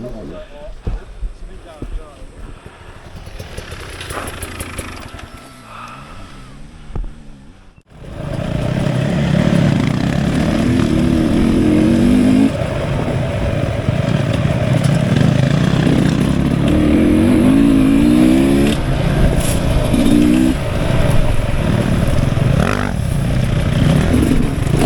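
A four-stroke KTM motorcycle engine on a Christmas group ride drones steadily and loud for most of the stretch, with a few revving rises, after a quieter, patchier opening with talk.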